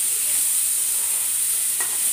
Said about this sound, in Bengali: এদিকে ডিমগুলো আলু দিয়ে ভেজে নিচ্ছি।